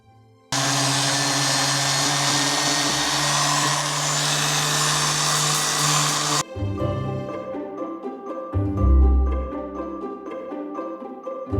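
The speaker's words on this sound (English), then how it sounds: "I was able to start sanding the larger faces of the middle section." A power sander whirs loudly and continuously, grinding against wood in an old abandoned house, then its pitch drops and the tone roughens with a few deeper thumps near the end.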